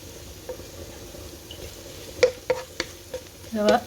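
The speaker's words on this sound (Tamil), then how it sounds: "இப்போ உள்ளியையும் இஞ்சியையும் போட்டு வதக்குவேன்." Garlic and ginger are stirred in hot oil in a pan: mostly quiet, with a few distinct clicks of a utensil and light sizzling, then a brief louder burst of frying at the close.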